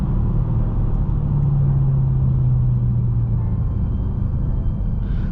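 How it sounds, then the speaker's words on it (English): Dodge Hellcat engine rumbling from inside the cabin, a loud deep continuous drone with a brief swelling tone partway through, steady and uninterrupted by voices. "Oh my god, this car sounds so good."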